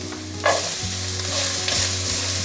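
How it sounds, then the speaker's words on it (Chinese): Potatoes, carrots and red bell pepper sizzle loudly as they are stir-fried in a pan, with a steady frying hiss and a few scraping stirs of the spatula. "继续翻炒"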